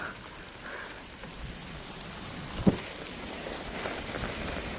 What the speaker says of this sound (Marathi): मजबूत पाऊस पडतोय बघा